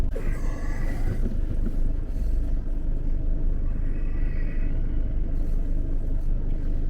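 A car driving along a suburban road makes a steady in-cabin engine and road drone, loud and continuous, with a couple of faint whining rises as it moves.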